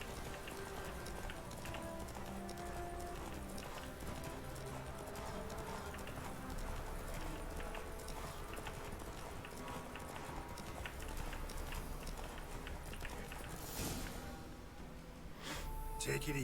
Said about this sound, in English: ¿No se cansa su caballo o qué?